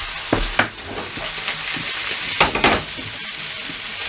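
Rice stir fry sizzling in a pan over low-medium heat, a steady close crackle broken by a few scraping stirs, with no talk.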